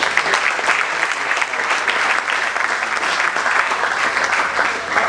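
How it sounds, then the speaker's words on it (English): An audience at a professional and entrepreneurship leadership event gives a sustained round of applause, steady dense clapping from a large crowd heard close and fairly loud. "give another round of applause to everyone who has spoken before me"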